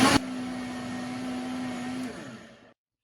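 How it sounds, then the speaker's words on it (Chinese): A high-speed blender grinds soaked rice and mugwort with a little water, a loud steady whirring motor hum that runs for about two seconds before winding down and stopping. "然后用破壁机给它打碎，打一打，停一停，要多打2遍"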